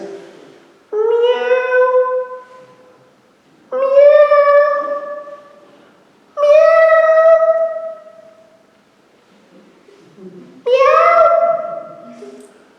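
A cat meows four times during Compline prayers, loud and close, each cry long and drawn out with quiet pauses in between.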